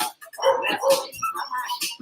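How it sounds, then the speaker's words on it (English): A dog barks in short bursts, several close yips and woofs in irregular rhythm, loud and near with brief gaps between. "Now the dog's acting up."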